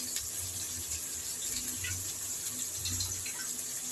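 Tamarind soaked in water is squeezed and strained by hand for a manathakkali kuzhambu, giving close wet sloshing and squelching swirls with soft trickles, steady and unaccompanied by talk.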